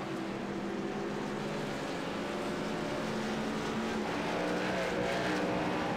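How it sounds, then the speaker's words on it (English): Race car engine from a racing video game on an oval at Atlanta, a continuous loud droning roar that rises in pitch toward the end as the revs spike, with no speech. "he maybe downshifted or in a rev spike"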